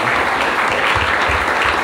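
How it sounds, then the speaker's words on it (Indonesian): An audience of santri at a comedy gathering gives Nurul Amin a loud, dense round of clapping that stays steady for about two seconds. "Tepuk tangan dulu buat Nurul Amin semuanya."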